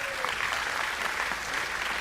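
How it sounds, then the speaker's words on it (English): An agricultural appreciation event audience applauds Celia Harmon, county leader for the Ham Project; a sustained, even roar of many hands clapping at moderate volume, with faint voices mixed in. "Let's give Celia a round of applause"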